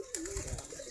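A desi Giribaz pigeon gives a single short, soft coo from close by in a quiet outdoor setting.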